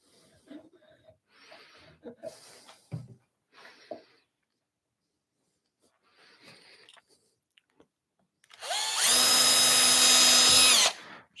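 A smaller electric drill with a 2.5mm bit whirs loudly into wood for about two seconds near the end, after quiet clicks, taps and handling noises while parts of an Adirondack chair are assembled.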